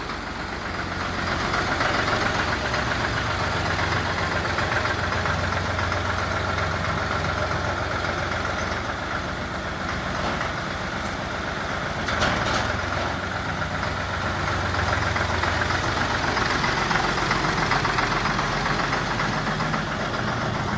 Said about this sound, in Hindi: 3511 अपनी ड्यूटी पे लग गया है और देख सकते हैं कितना पिकअप है, झटके मारता है।